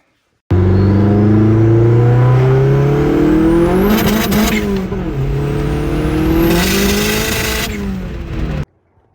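A custom-built car's engine revs hard while driving, loud and close, with two long sweeping rises in pitch as it climbs through the gears and a bright burst at each peak before it settles back.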